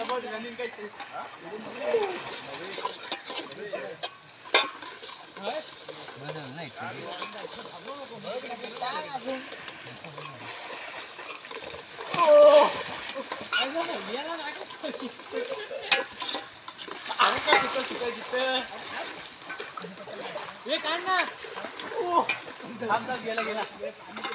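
Onion and ready-made ginger-garlic paste frying in a pan, steady sizzling with stirring scrapes throughout while people talk over it.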